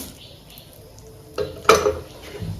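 Urad dal and chana dal tipped into hot oil in a pan: two sharp metallic clatters and a sudden hissing sizzle burst in after a quiet stretch, close and fairly loud.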